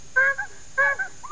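A voice imitates a bicycle horn with two honking, goose-like squawks, each a short bright blast followed by a smaller trailing note, close and alone with no talking.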